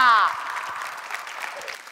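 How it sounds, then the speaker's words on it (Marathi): Applause from a studio audience at a Marathi women's game show, a brief burst of clapping that tapers off after a loud opening, with a voice briefly heard at the start. "एकदा जोरदार टाळ्या होऊन जाऊ दे."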